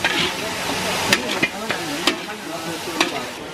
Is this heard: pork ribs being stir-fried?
yes